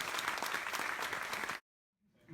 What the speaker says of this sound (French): Allez, applaudissements pour Will Levray